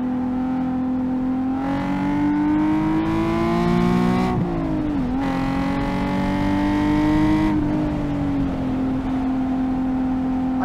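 A mildly modded Nissan 370Z engine on a hot lap around a race track, a loud steady drone that climbs in pitch through the gears, with brief dips at shifts and lifts before revving up again.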